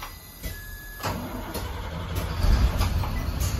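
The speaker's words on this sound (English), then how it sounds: "listen to that big diesel" A 2005 Bluebird school bus with a CAT C7 turbo diesel engine running, a steady low rumble that builds in loudness, heard close with no talk.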